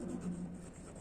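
Faint scratchy pen or pencil strokes on paper in a primary-school English lesson, soft and continuous for about a second in a quiet room.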